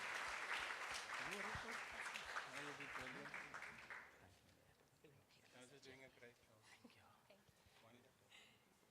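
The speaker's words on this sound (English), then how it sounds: "Can we give them another round of applause" A crowd at a Youth Day event applauds loudly for about four seconds, a thick wash of clapping with voices mixed in, before it dies away and an amplified speaker talks on.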